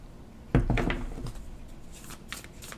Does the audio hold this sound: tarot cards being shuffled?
yes